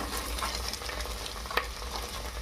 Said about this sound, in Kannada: ಫ್ರೈ ಮಾಡಂಬ್ರಿ ಈಗ ಕ್ಯಾರೆಟ್ ಹಾಕ್ಕೊಳತ್ತೀನಿ ರೀ